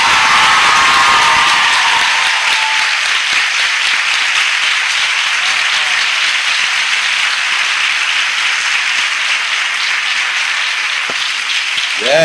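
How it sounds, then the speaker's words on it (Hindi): A church congregation in Chhattisgarh breaks into loud, sustained applause that fills the room and holds at steady strength for several seconds. "ऐसी ताली बजाओ जो इस कलीसिया में आज तक नहीं बजी होगी।"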